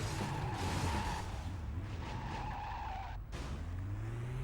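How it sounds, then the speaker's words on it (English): In the video game Driv3r, a car skids with squealing tires and roaring engine before slamming into another car; the collision lands in a dense, continuous stretch of game audio with a brief dip near the impact. "And then we're just going to crash into someone."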